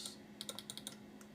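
Quiet, close typing on a Macintosh computer keyboard: a short run of about seven light, evenly spaced key clicks, then one last soft tap, with faint background hiss and no talking.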